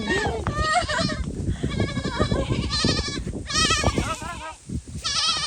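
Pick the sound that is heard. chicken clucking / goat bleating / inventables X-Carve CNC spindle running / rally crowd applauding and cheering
goat bleating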